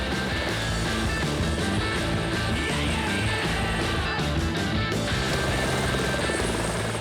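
A helicopter runs loud and close throughout after a flight from Melbourne to Birregurra, its rotor and engine noise a steady, dense roar with no pauses.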